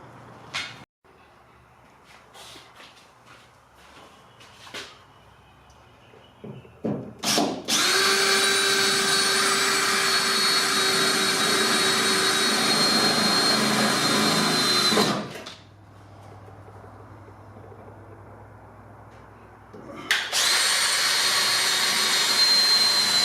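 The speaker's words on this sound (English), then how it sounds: "I'm just going to polish that up, see how it comes up" A power polisher buffs a metal cover from a Ford ZF Fairlane under restoration, a few clicks and taps leading into a loud, steady whine for several seconds, a pause with low hum, then the polisher spinning up again.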